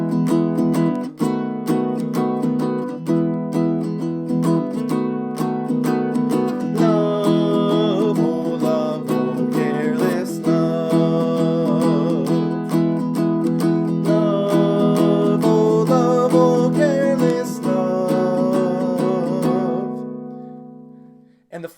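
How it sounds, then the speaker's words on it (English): A ukulele plays a shuffle strum that skips the upbeat after each downbeat, giving repeated bright chord strokes in a swinging rhythm up close, then stopping abruptly at the end. "Option number 2 is to play the downbeat of the shuffle strum,"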